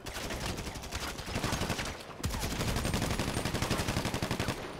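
Dense automatic gunfire from a military roleplay video game rattles on almost without pause in rapid, loud bursts, with only a brief dip near the middle.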